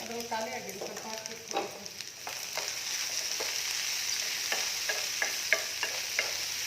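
Cashew and tomato puree fries in a pan, a soft steady sizzle with scraping stir strokes and light taps, close and fairly quiet, a brief tonal voice-like sound near the start.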